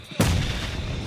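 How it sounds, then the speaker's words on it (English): A grenade explodes in PUBG Mobile during a tournament grand final broadcast, one sudden loud blast that rolls into a sustained rumbling decay. "Grenades blowing up everywhere."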